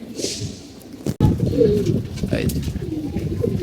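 Low, rolling pigeon coos repeat through the clip, mixed with other bird calls and some background voices.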